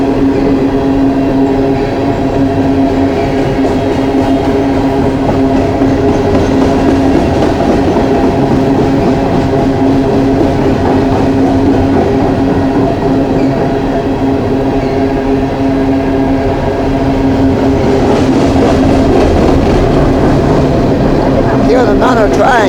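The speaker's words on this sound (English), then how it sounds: "I know I'm hearing another train." Long coal train rolling past on railway tracks in West Virginia, heard from a spot about 20 feet above the ground: a loud, steady rumble and rattle of wagons continuing throughout with a sustained low hum.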